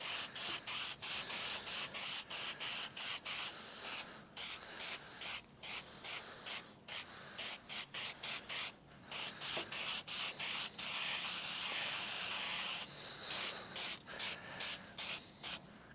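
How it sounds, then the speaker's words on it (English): A spray can lays a leather sheen finish onto tooled leather in a rapid series of short hissing bursts with brief gaps, plus one longer continuous spray, close and fairly quiet. "we're probably gonna do 3 or 4 coats of this spray sheen"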